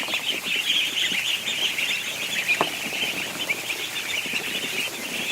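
A flock of young ducks in a barn with fresh straw and food keeps up a loud, dense chorus of high-pitched calls, continuous and close, with no one speaking.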